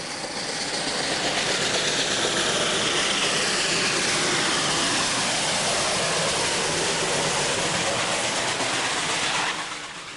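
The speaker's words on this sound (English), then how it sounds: "the groaning effort of a locomotive labouring its heavy load up a mountain path" A heavy steam train roars past close by, a dense, rushing wall of chuffing and rumbling noise that swells, holds steady, then eases off at the end.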